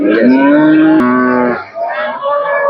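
A pregnant cow at the Hazratpur cattle market gives one long, loud, close moo, followed by a shorter, softer second call, with no talk over it.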